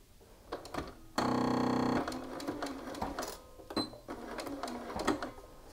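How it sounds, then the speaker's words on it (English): A sewing machine with a quarter-inch foot runs one steady burst of stitching, close and loud, lasting under a second, with quieter handling clicks and fabric rustle before and after. "we'll be sewing across again at a quarter inch, and I'm using a quarter inch foot"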